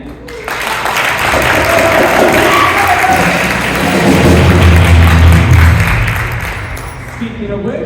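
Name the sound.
audience applause at concert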